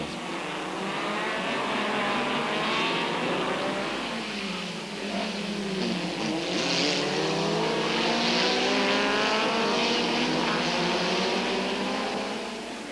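Lotus Elan race cars with polyester bodies and 1600 cc twin-cam engines at a vintage circuit race, a continuous loud engine roar with rising and falling pitch as several cars pass in close succession.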